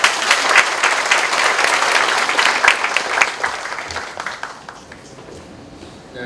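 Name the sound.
applause for the president's speech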